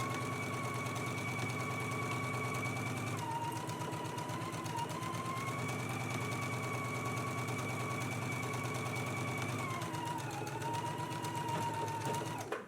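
A sewing machine stitches a long seam at 5/8 inch allowance on a dress facing, one continuous steady run of fast stitching nearby whose motor pitch dips slightly now and then.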